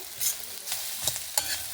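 Grated coconut being roasted and stirred in a pan with cumin, for a temple-style pumpkin sambar: dry scraping stir strokes over a light crackle, close and alone.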